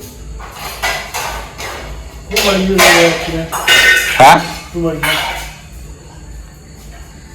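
A metal cooking pot set down in a home kitchen, giving a few short clanks and clinks between people talking loudly nearby.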